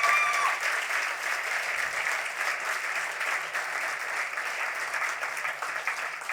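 A gala audience at a literary awards night claps in a steady, moderately quiet round of applause that continues evenly throughout, with a brief voice at the very start.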